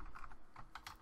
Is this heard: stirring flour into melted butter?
no